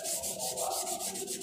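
Coarse 36-grit sandpaper rasps over body filler on a car panel in fast, rhythmic back-and-forth strokes, a close, steady scratchy hiss with no talking.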